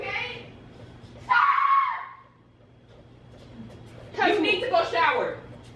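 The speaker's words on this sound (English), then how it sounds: "I just want y'all to hear how loud my kids get sometimes." Children at home scream loudly and shrilly while playing, two sharp bursts of high-pitched shrieking separated by a short lull, close and piercing.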